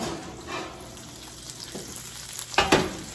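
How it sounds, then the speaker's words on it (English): Whole roasted branzino with lemon and herbs sizzles in a hot pan fresh from the oven, a soft continuous frying hiss broken by a few sharp crackles and pops near the end. "I can hear it sizzling and crackling."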